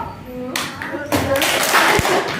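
A group claps hands in short bursts during a clapping game, with sharp close claps and taps mixed with voices.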